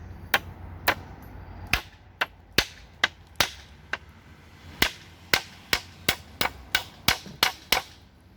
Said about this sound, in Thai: แค่นี้แล้วเราก็ทำการตอกตรงนี้เข้าไปเลย